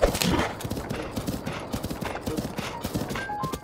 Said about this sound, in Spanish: Si vas por los caminos, el caballo se maneja solo.